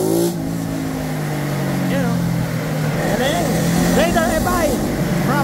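A Suzuki Raider FI motorcycle with a remapped stock ECU runs on a dyno in Paco, Manila, its engine revving up and down in rising whines and sharp revs, loud and close, with voices and shouts over it.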